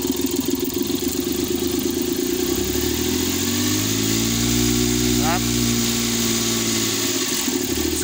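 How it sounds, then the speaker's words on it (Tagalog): A Suzuki K6A engine with a broken turbo runs rough, vibrating with a rattle like a loose can inside, a steady close drone with shifting tonal hum and a brief higher chirp midway. "So yung makina niya maganda pa yung andar pero hindi na yan makaangat kasi wala na talaga, sira na yung turbo niya."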